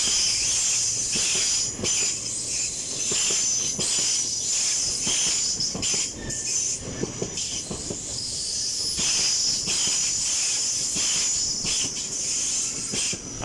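A Class 801 train pulls out of Darlington station, a steady loud rumble of wheels and traction with hissing and rail noise, faint squeals and rattles throughout, no voices.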